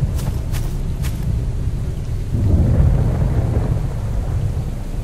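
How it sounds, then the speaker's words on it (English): Thunderstorm in the video game S.T.A.L.K.E.R. Call of Chernobyl: steady heavy rain under deep rolling thunder that swells louder midway, with no talking. "I'm going to shout over this storm"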